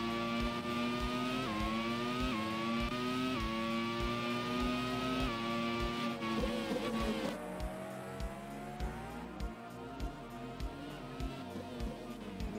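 Formula One cars scream along in the Grand Prix 2 game at the 1993 French Grand Prix, engines whining up and down through gear changes as cars jostle for position, with commentary over them.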